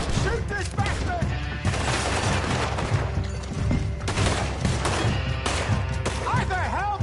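Shots ring out in the Western game Red Dead Redemption 2, dense and loud throughout, over a steady bed of noise, with character voices shouting in between.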